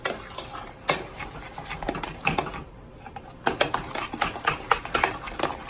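Almond puff batter stirred in a cast iron pan, with a steady sizzle under irregular scraping and clinking of a utensil against the iron, a brief quieter pause midway, no talking.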